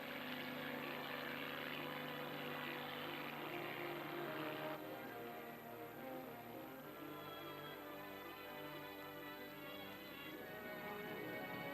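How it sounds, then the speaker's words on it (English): Drone aircraft and helicopters fly toward a radioactive cloud over an island during nuclear test operations, producing a steady, loud propeller and engine drone with layered tonal hum that continues throughout without talk. "drones start into the radioactive cloud to gather air samples. Helicopters head toward the Zero Island."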